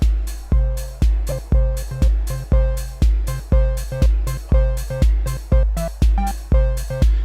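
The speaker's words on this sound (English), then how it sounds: "I grab a 4-beat loop, and it's perfectly in time with everything else" A drum-machine beat looped through a Chaos Pad: steady, punchy kicks and hits repeating in a tight four-beat pattern, even and mechanical, with no voices.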